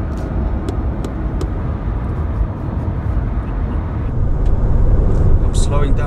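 A steady, loud engine drone and road roar fill the cabin of a Ford Transit Custom plug-in hybrid van at its 125 top speed, building slightly toward the end.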